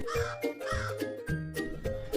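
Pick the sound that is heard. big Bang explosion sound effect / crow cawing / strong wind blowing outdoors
crow cawing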